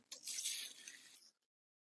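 Plain water poured into a planting hole for a rhododendron in a garden, a steady splashing trickle that runs about a second and then stops abruptly, fairly quiet and close.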